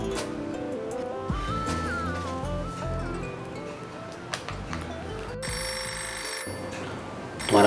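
A mobile phone rings softly under a melodic background music score in a Hindi film scene, the ringtone blending with the music throughout.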